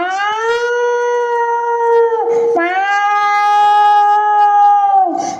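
At a school annual day, a schoolchild imitates an angry cat with two long, drawn-out wailing yowls, loud and close, the second rising and sustained before breaking off.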